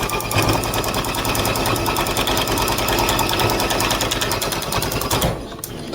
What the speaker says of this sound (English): you're going to just sew 2 seams across